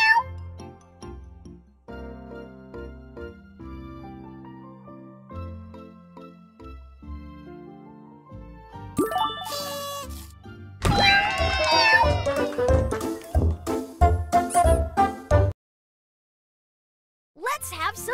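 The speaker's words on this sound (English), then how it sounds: "Meow, meow. Meow, meow." Repeated short meows, some musical and sung-sounding, over a bouncy tune, with a burst of busier chirpy cries near the end before a pause.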